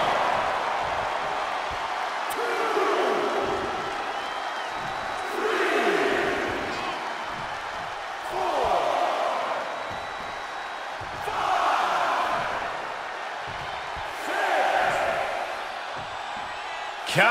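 A large wrestling arena crowd in WWE 2K23 roars in rising and falling waves of cheering, with thuds and slams in between and a commentator talking over the noise.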